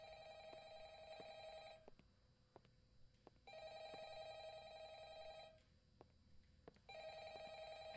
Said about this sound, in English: I hear the phone each time.